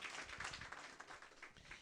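A church congregation at a Christmas celebration claps for the Lord, a brief, faint patter of many hands heard at a distance.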